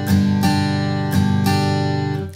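Guitar looping a triplet shuffle rhythm, bright strummed attacks repeating in a steady swung pattern, close and loud with no talking.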